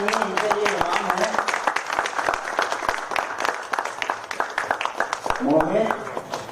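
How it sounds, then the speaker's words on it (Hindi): Audience applause at a theater festival, a steady clatter of many hands running the whole stretch and swelling near the end, with a voice talking over it. "तालियां प्लीज"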